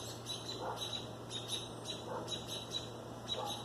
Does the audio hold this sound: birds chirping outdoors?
yes